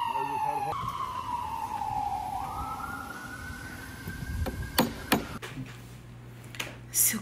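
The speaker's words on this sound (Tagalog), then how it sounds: "Fire truck din, ambulance, no?" Emergency sirens from a fire truck and ambulance wail in a falling-then-rising sweep at moderate distance on a street in America, with sharp knocks and clatter nearby toward the end.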